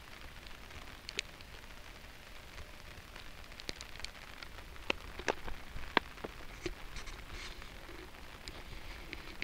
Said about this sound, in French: Vous entendez les amis comme il pleut?